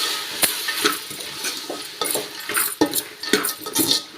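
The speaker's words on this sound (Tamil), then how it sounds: "இது கூட வந்து கொண்டக்கடலை கழுவிட்டு வச்சுருக்குறோம் அதையும் சேர்த்துக்கலாம் சேர்த்து நல்லா வதக்கி விட்டுடலாம்" Chickpeas get sautéed with onions and tomatoes in a pan, quick scraping spatula strokes and light clinks of metal over a gentle sizzle, close by and without speech.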